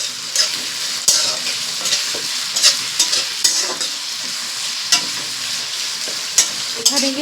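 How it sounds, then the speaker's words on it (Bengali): Bay leaves, dried red chillies and onion fry in a pan with a steady hiss, while a utensil stirs and scrapes in frequent clicking strokes close to the listener. "তেজপাতা, শুকনো লঙ্কা আর পেঁয়াজ ভালো করে 3 থেকে একসঙ্গে ভেজে নিতে"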